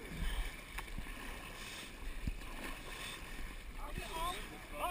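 Raft paddling through rapids on the Snake River near Jackson Hole: rushing water and wind noise with occasional paddle splashes and knocks, voices faint in the background.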